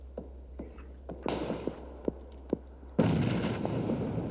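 A grenade blast in PUBG lands as a sudden loud burst that rumbles on, preceded by scattered sharp distant gunshots and a smaller explosion.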